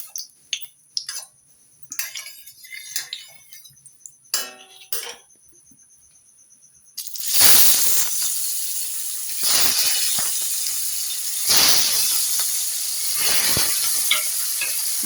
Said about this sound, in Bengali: দিয়ে আমি এবার মাছগুলোকে ভেজে নেব